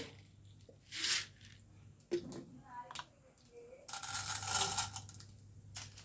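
Mustard seeds and urad dal drop into hot coconut oil in a pan, giving faint scattered crackles and pops followed by a louder sizzling burst. A voice talks quietly over parts of it.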